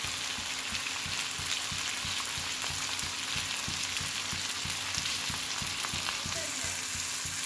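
Turmeric, salt and ground spices fry in a pan with chopped bottle gourd for a potato and shrimp curry, giving a steady close sizzle broken by regular scraping stirs throughout.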